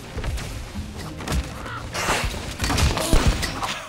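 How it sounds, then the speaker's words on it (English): Gunfire in the Zooba mobile battle game, a series of short punchy shots and thuds in irregular bursts at moderate volume, with game effects around them. "Here you go, I shoot him. Again, I shoot him."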